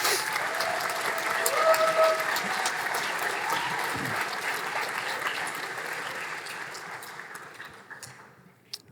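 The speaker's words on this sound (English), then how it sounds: "Round of applause for them, please." Sustained applause from an audience at a graduation ceremony, a dense steady clapping that gradually fades toward the end, with a voice faintly present at times.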